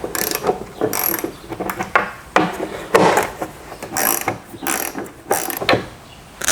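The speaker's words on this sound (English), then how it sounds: "Go ahead and loosen those up." Ratchet wrench with a 10mm socket loosening the brake light housing screws on a Nissan Xterra, giving bursts of quick, close metallic clicking with short pauses between strokes.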